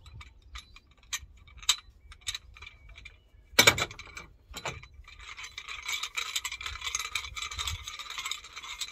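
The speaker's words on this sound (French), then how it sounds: "Je visse la barre." A metal bar being screwed onto a workout board gives faint ticking and ratcheting clicks, a brief scrape, then a sustained grinding twist, close up with no talking.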